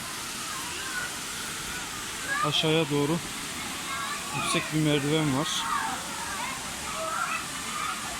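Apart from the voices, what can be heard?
Sabun Çayı waterfall in Düziçi, Osmaniye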